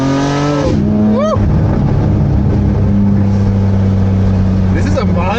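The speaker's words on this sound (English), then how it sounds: "Guys, the car sounds absolutely insane." A loud, aggressive BMW G82 M4 engine (S58) with catless downpipes rumbles and revs sharply, with a deep raspy exhaust note and people talking over it.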